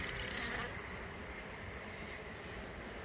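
Honey bees buzz around a swarm trap frame holding brood during beekeeping, a steady close droning hum that is slightly louder in the first moment and then settles.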